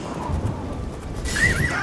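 A horse whinnies in the video game Oblivion, a clear rising neigh in the second half over a low murmur of in-game ambience, with faint hoof clatter underneath.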